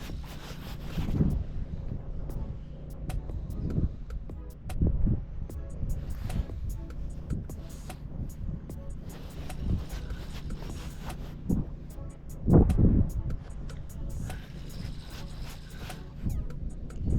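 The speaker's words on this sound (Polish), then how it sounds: "Troszeczkę wiatru stało, ale i tak wieje." Gusty wind blowing across a microphone outdoors at a carp and trout fishing pond, a low rumbling buffet that swells into louder gusts now and then, with faint rustling and no talk.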